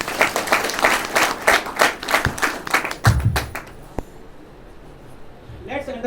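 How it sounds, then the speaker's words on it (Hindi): Audience applause at a seminar: a burst of uneven, rhythmic clapping from a crowd for about four seconds, then fading into room quiet before a voice resumes. "तो एक जोरदार ताली अपने लिए बजा दीजिए"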